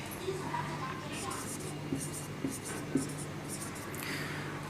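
Marker or chalk writing an example sentence on a board, a few short scratchy strokes over a low steady background hum, faint and close.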